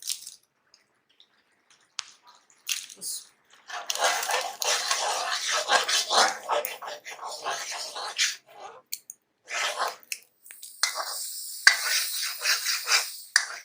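Mango barfi mixture being stirred in a pan for a mango sweet, giving a steady close scraping and swishing from about four seconds on, with brief clinks and a louder burst of stirring near the end.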